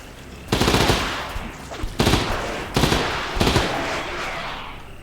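Several loud bursts of rapid automatic fire from a PPSh submachine gun in a video game, four distinct volleys spaced about a second apart, each fading into a reverberant tail.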